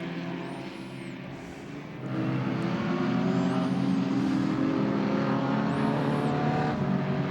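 An Alfa Romeo and a Ford Escort heritage touring car race at Winton: engines roar loudly and steadily, rising in pitch and intensity as the cars pass close through twisty sections, with no talk heard.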